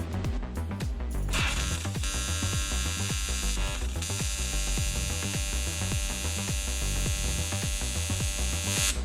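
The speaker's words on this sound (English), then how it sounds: "I think I'm going to try to fusion weld this together" Fusion welding of metal with no filler rod on a custom water box gives a steady electrical buzz and hum with a regular pulsing pattern throughout, close and continuous.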